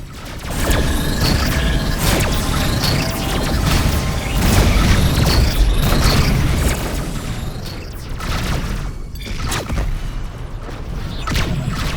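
Missiles striking and exploding in a Rebel Galaxy space battle, a dense barrage of loud booms and crackling bursts layered over a continuous roaring rumble, with sharp impacts repeating throughout.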